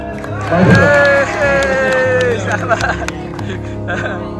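Crowd at a volleyball tournament in Maharashtra bursts into loud clapping and cheering, a dense swell of applause with shouts that peaks early and then carries on steadily at a lower level.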